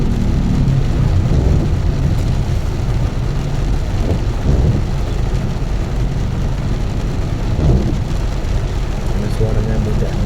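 Rain falling on traffic at the Bekasi Timur toll road exit, a loud continuous wash of rain and tire hiss with rumbling engines of passing cars and motorbikes, and a voice talking over it at times.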